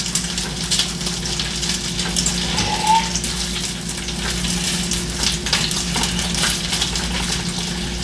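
Bacon sizzles and crackles steadily in a hot pan, a dense, continuous frying hiss with constant low kitchen hum beneath and no talking.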